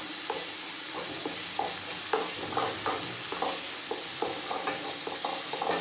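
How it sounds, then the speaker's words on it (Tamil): Grated carrot with salt sautés in a pan, a steady close sizzle with repeated scraping strokes of a spoon stirring it throughout, no voices. "நல்லா வணக்கி விட்டுருங்க."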